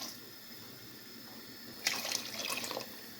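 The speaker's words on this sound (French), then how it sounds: "Maintenant, je vais rajouter la farine avec l'eau et un petit peu de la levure." Flour-and-water mixture poured into a pot of Moroccan harira soup, heard as a brief soft splashing trickle lasting about a second after a quiet stretch of background hiss.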